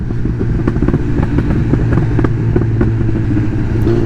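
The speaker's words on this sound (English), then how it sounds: "It's just motorbikes." Loud, steady engine roar of motorbikes on a road, with a droning rumble and slight revving, constant throughout with no talking.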